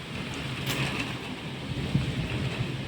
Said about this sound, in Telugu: పెద్ద గాలి. వింటున్నారా?